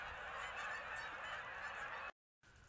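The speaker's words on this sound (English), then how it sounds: "Told you it's like the best waterfowl spot ever." A flock of waterfowl, likely geese, honking continuously in a dense overlapping chorus from a hunting spot, fairly distant and soft, with a brief dropout near the end before the calls resume.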